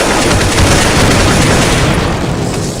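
A grenade explodes in Counter-Strike 1.6 amid dense, loud gunfire, a sustained wall of booming, crackling noise lasting the whole moment with no gaps and a slight fade at the end.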